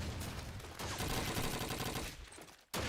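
Dense gunfire in Call of Duty 2 during a competitive 5v3 LAN match, a near-continuous rattle of automatic fire and shots that cuts off briefly near the end before resuming loudly.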